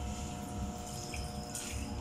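Water running and trickling near a fish tank in a home kitchen: a soft, continuous splashing flow with faint drips, steady and fairly close, with no voices.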